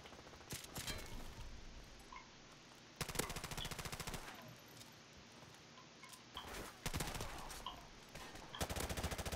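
Bursts of automatic gunfire from a weapon in Call of Duty: Modern Warfare Remastered, several loud rapid volleys separated by quieter gaps, with in-game ambience between them.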